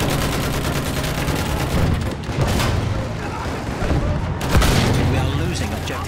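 Gunfire crackles through a Battlefield 1 match on the St. Quentin Scar map, with an enemy machine gun firing in dense bursts amid booms and battle noise, while voices call out over the constant din.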